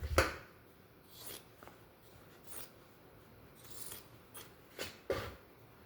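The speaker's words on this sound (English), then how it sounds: "Then I'm going to trim off this part of the triangle." A fabric triangle is trimmed during foundation paper piecing, producing a few quiet, crisp cutting snips spaced irregularly over a soft background with no talking.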